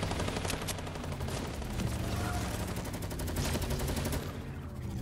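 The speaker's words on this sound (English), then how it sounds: "What are you shooting at?" Continuous rapid gunfire in Fortnite runs throughout as a dense rattle of shots, steady and fairly distant.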